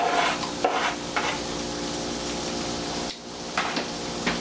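Pork chops sizzle steadily in a hot pan, a dense continuous hiss with a few brief clinks and scrapes, with a short dip partway through.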